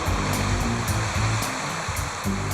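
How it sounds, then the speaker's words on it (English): A hot spring geyser gushes water in a loud, dense, continuous roar, like a waterfall, holding steady throughout without voices. "The geyser gushes water once every 7 minutes."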